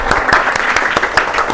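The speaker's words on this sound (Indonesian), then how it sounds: "Tepuk semangat untuk kita semuanya." A classroom of students joins in a rhythmic spirit clap during an Islamic cultural history lesson, producing sharp, evenly spaced group claps that repeat in a steady beat, loud and close.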